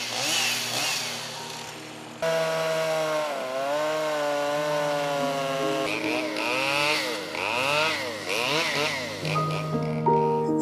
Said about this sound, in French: en guettant le bruit de la tronçonneuse